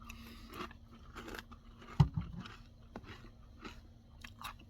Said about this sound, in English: I'm just eating a little cereal here.